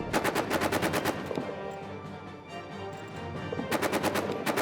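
Rapid machine gun fire in the First World War trench game All Quiet in the Trenches, loud, dense bursts of regular shots at the start and end with a steadier rumbling stretch between.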